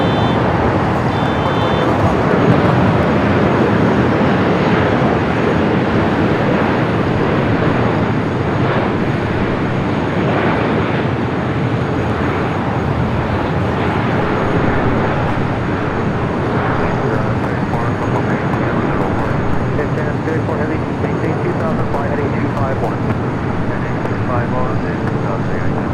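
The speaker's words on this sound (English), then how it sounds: "Oh, Arizona going around." An Arizona Queen airliner going around at LAX produces a long, loud, steady jet roar with broad rumble and hiss, under ongoing talk throughout.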